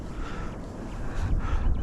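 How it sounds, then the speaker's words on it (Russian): Headwind buffets the microphone in low, gusty rumbles on a river while pike fishing, swelling louder toward the end, with no voices. "ветер сейчас как раз в лицо"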